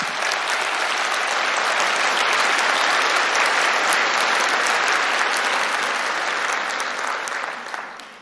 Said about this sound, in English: I'm glad you've just applauded